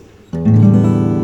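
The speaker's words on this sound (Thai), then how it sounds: "ดีดตรงซาวโฮนะครับโปร่งเสียง" After a brief quiet moment, an acoustic guitar chord is strummed once near the sound hole, ringing full and warm with a strong low body as it sustains.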